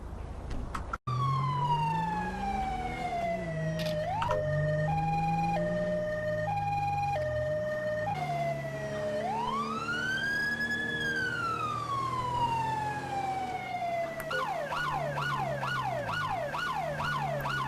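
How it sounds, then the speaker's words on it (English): A police car siren in GTA 5 with a UK police mod cycles through wailing and yelping patterns, loud and steady throughout, shifting between slow rising sweeps and fast warbles. "we need to put our lights and sirens and get into the vehicle"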